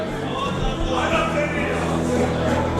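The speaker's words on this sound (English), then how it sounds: "I can hear the crowd behind me." Crowd hubbub at junior left-hand arm wrestling finals, a steady wash of indistinct voices and babble filling the hall at moderate level throughout.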